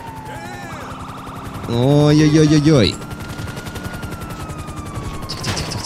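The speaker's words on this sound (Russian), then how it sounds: "Там вертолет уже по нам херачит сверху" A police helicopter firing down from above in GTA Online: rapid machine-gun bursts with sirens and helicopter rotor noise, close and loud, while a player exclaims over the gunfire.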